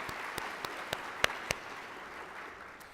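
An audience applauds at a presidential address, with a handful of sharp individual claps standing out over a steady wash of clapping that slowly thins toward the end.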